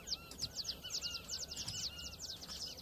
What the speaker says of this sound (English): Yes, it's got a little tweet, a little sparrow tweet.